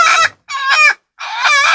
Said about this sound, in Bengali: এই এটা আমার দেশি মুরগি